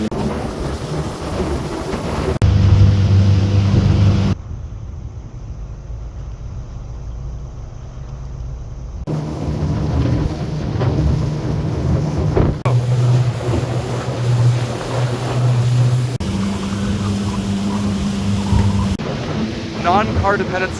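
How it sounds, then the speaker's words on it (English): A boat engine drones steadily while riding across water in Malaysia or Brunei, with wind noise buffeting the microphone and a person talking over it at times. "we're on a boat"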